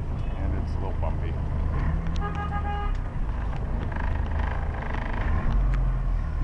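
Busy Istanbul street traffic with several short car horn toots, engines rumbling and passing nearby, heard from inside a moving vehicle as people talk over the din.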